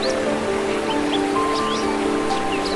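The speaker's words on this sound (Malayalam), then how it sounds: "വലിയൊരു പാറയുടെ ഒരു ഭാഗത്തായിട്ട് വന്നു പതിക്കുന്ന മനോഹരമായ ഒരു വെള്ളച്ചാട്ടം" A steady, full roar of falling water comes from a 70–75 foot waterfall crashing onto one side of a large rock after heavy rain, with birds chirping faintly over it.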